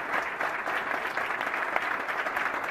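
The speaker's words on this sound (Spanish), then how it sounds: "yo quiero que le echemos un aplauso de recuerdo a esa mujer socialista como nosotros" A dense, sustained burst of applause from the audience at a PSOE campaign rally in Calatayud, many hands clapping steadily and fairly loudly throughout.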